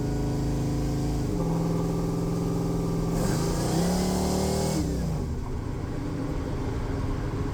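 FFR 33 Hot Rod engine while driving on the road, a loud, steady mid-pitched drone that rises as it revs, dips with a smooth downshift and climbs again, continuous throughout with no voices.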